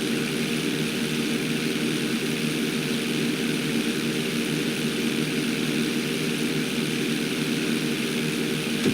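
A propeller plane in Grand Theft Auto V roars down the runway on takeoff, with a loud, steady engine drone that holds throughout, no voices.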